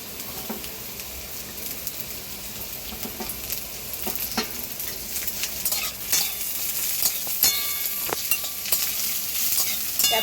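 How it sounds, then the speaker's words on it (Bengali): Capsicum fries with carrot and beans in a pan, a soft steady sizzle punctuated by frequent close scraping and clinking stirs of a spatula, growing busier toward the end. "ক্যাপসিকামটা দিয়ে হালকা করে একটু ভেজে নেব।"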